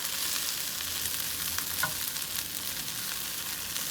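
Okra fries in a seasoned cast iron skillet with a little oil, giving a constant close sizzle and crackle with a faint scrape partway through, without any talking.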